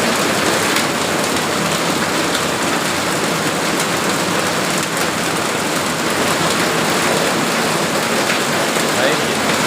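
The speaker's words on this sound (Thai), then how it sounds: "ยินแต่เสียงฝน" Heavy rain pours down during a storm as a dense, steady roar of water that stays loud and unbroken from start to finish.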